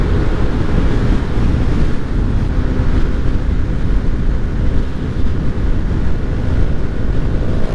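Wind rushes past a rider on the mountain Marilaque Highway near Infanta, Quezon, a loud, continuous buffeting roar close to the microphone with no talk throughout.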